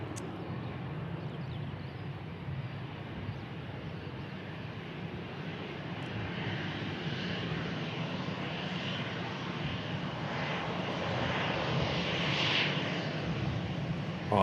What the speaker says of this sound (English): Europe aircraft operating on behalf of Ryanair.